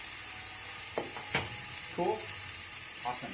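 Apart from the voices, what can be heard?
food flash frying in oil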